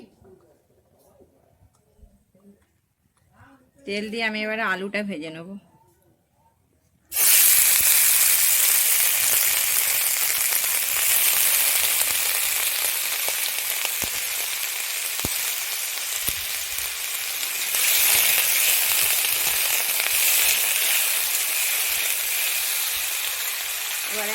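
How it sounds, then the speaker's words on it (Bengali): Potatoes fry in oil in a wok for a mushroom curry, a loud, steady, dense sizzle that starts abruptly and runs unbroken, with a brief voice speaking in a quiet stretch just before it begins. "আমি ভালোভাবে ভেজে নিচ্ছি আলুটাকে"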